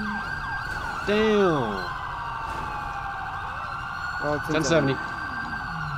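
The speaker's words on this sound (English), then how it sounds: "I hear your siren and I don't see you yet." Emergency vehicle siren in the police game FivePD on GTA V, a loud steady wail with rising and falling sweeps and yelps, with someone talking briefly over it.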